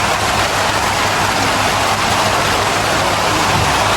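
Steady rain falls outside a house during the Bhaubeej festival, a dense even hiss that stays constant for the whole stretch with no voices over it.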